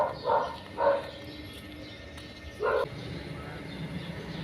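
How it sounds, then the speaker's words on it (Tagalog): Dog barking three times at middle distance, two quick barks close together then a third after a pause, over quiet outdoor background noise. "Yung aso."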